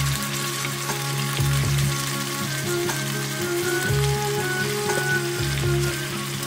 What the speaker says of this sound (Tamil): இப்போ கடாயில் 2-3 டீஸ்பூன் நெய் போட்டு சூடானதுக்கப்புறம் நம்ம அந்த மேரினேட் பண்ணி வச்சுருக்கிற சிக்கனை அதில் போட்டு கொஞ்ச நேரம் அப்படியே லோ ஃப்ளேமில் வறுக்க போகிறோம்